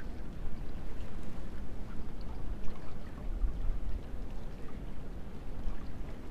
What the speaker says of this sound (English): Creek below.